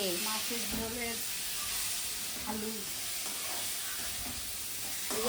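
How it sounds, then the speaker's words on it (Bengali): Potatoes sauté with spices in a pan, giving a steady, soft sizzle with occasional stirring, while faint voices sound in the background. "আলু মশলা দিয়ে কষা হচ্ছে"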